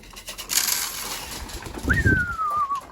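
Pigeons cooing and fluttering nearby, with a bird's rising-then-falling call near the end over faint outdoor background noise.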